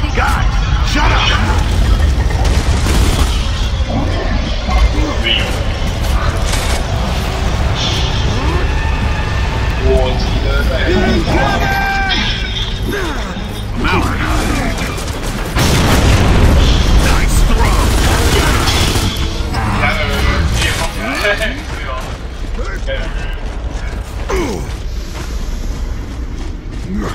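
In Gears of War 2, a heavy earthquake rumble rolls on continuously under loud mechanical clatter, crashes and booms, with voices talking throughout.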